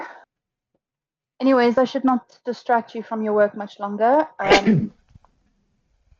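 A single sharp sneeze bursts out near the end of a stretch of conversational talk during a tabletop roleplaying game session. Voices continue around it.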